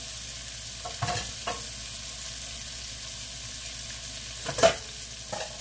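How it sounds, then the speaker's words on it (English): Two pounds of kale greens going into a hot pot to cook, a low steady hiss with several brief scraping stirs and a louder clatter near the end, no voices. "I'm going to go ahead and start putting my greens in and let them start to cook"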